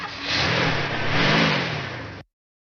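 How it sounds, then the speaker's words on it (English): A tractor engine revs steadily at close range, its mid-pitched drone rising and falling slightly for about two seconds before cutting off abruptly. "is that the tractor that's parked at Deborah's house?"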